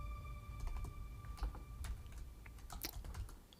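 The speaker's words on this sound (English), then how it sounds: "Okay, I'll have to type it again." Fast, irregular typing on a computer keyboard during live C++ coding, crisp close key clicks in uneven bursts with a faint steady electronic whine underneath.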